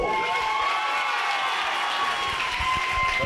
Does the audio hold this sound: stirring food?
no